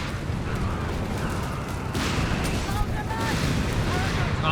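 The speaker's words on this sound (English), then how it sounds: "Grenades and mortar bombs." Grenades and mortar bombs go off in Company of Heroes 3 as a continuous rumble of battle with heavy booms and bursts, laid under a commentator's steady talk.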